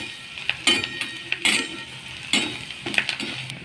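A spoon stirs potato curry in a pan after green chillies were fried and turmeric added, giving several sharp, close clinks and scrapes of metal on the pan in irregular bursts, with no talking.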